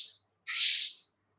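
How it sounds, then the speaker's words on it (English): A single bright, whistled thrush call rings out clearly for about half a second in a forest, preceded by a brief fainter note, with quiet in between. "Yes, Rashmi, that is the call of a thrush."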